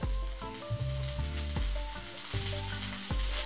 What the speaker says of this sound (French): Et on fait revenir les pommes de terre pour bien les colorer.